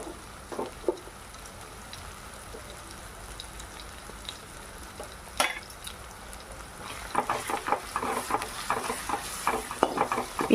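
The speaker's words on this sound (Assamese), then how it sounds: "পিঁয়াজখিনি এনেদৰে মছলাৰ সৈতে অকণমান সময় ভজাৰ পাছতে" Onions frying in a pan with ginger-garlic paste, turmeric, chili powder and masala, a soft steady sizzle with scattered stirring clatters that grow busier and louder toward the end, no talk.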